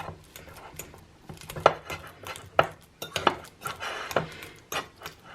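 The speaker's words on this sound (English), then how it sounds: "I've chopped up one ripe banana into a bowl here, and I'm just going to mash it until it's nice and smooth and creamy" One ripe chopped banana being mashed in a bowl, with irregular clinks and knocks of a utensil against the bowl and soft squishing between them, close and fairly quiet.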